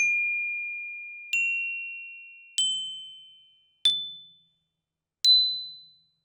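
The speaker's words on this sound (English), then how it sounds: "So I've got these chimes here. They work something like this." Salvaged clock chimes are struck one at a time by rescued clockwork strikers, giving five clear metallic dings about a second apart. Each ding rings on and fades in a quiet room.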